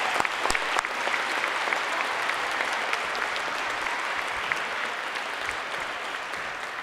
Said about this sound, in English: Let's give Sergeant Master Shelby Hobbs another round of applause.